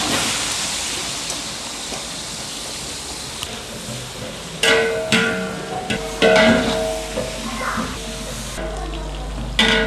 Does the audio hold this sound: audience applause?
no